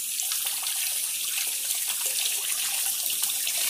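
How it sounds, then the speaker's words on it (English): Running water pours steadily from a tap over freshly cleaned bullhead catfish meat, a close, even rush of water splashing with no voices. "you want to rinse all the meat off."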